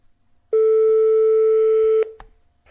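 A telephone line tone while calling someone back in the countryside: one steady, loud electronic tone lasting about one and a half seconds, followed by a short click.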